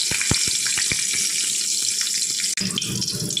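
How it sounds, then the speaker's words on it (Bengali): Nigella seeds and slit green chillies sizzling in hot oil, a close, steady crackling hiss with several sharp pops early on and a brief clatter near the end. "একই তেলের মধ্যে দিয়ে দিচ্ছি একটু কালো জিরে আর দুটো চেরা কাঁচা লঙ্কা"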